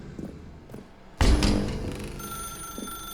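An old-fashioned telephone bell rings loudly in an office in the video game The Stanley Parable, entering abruptly after a quiet stretch of faint footsteps and shuffling, then continuing as a sustained metallic ring with no voices.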